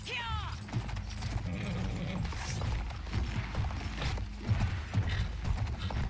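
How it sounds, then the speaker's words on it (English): Horse galloping in the video game Battlefield 1, rhythmic hoofbeats clopping steadily with mechanical rattles and game effects, mixed under a busy soundscape. "Let's go, horse."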